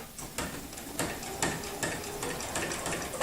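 A sewing machine stitches rapidly in free-motion quilting along a stitch line, a steady close mechanical whir with rhythmic needle thumps running through the whole stretch, with no voices over it.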